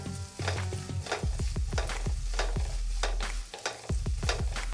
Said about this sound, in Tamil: சின்ன வெங்காயம் நல்லா வதக்கிடலாங்க